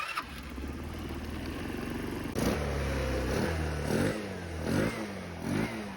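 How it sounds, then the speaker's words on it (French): A scooter engine starts up after its carburetor has been reinstalled, cranking briefly then catching into a loud nearby two-stroke idle with several sharp revving blips, no voices. "normalement la magie opère et le scooter doit clairement démarrer"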